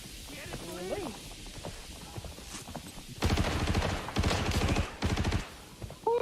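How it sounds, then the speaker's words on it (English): Close-range gunfight against bots inside a bunker in Arena Breakout, with rapid bursts of automatic fire in the second half following quieter movement and game sounds, while voices talk throughout. "Boss now in the gunfight with these bots in bunker"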